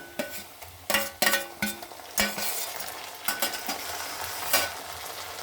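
Onion frying with garlic, ginger and green chili paste for a coriander rohu fish curry, sizzling under repeated sharp metallic scrapes and knocks of a spatula against the pan, no talking.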